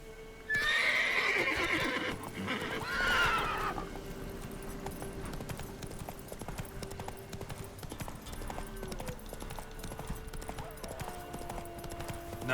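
Roach, the horse from The Witcher 3, gives a loud close neigh, then hooves clip-clop at a gallop under fading game ambience for the rest of the stretch.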